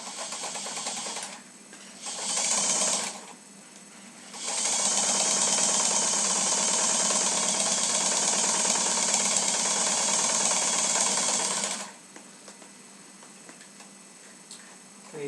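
Sewing machine running steady bursts of stitching along a French seam in muslin, a short run followed by a long continuous stretch of needle clatter, close and fairly loud.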